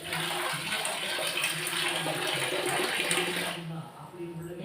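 Water poured from a cup into a cooking pot of soaked toor dal and rice, a steady rushing splash lasting several seconds before fading, close by.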